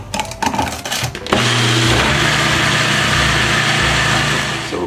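A food processor pulses butter and sugar for a vegan Jamaican rum cake. A few short clatters come first, then the motor kicks in with a loud, steady whir held close for several seconds.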